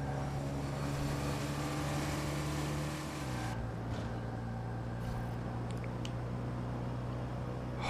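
In the video game Watch Dogs 2, a car drives along with a steady engine drone whose pitch drops partway through as if shifting gear, staying fairly quiet, with faint clicks and no voices.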